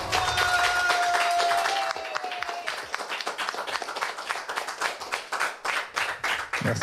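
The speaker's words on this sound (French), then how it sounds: "Et on peut l'applaudir bien fort." A live audience at a music show applauds a performer, starting under a fading held tone and thinning into distinct, rhythmic hand claps that grow sparser toward the end.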